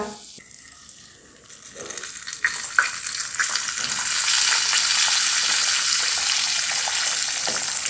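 Beaten egg sizzles in a pan of butter and sunflower oil, with a soft start that swells into a loud, steady frying hiss. Scattered clinks and stirring noises sit on top of it.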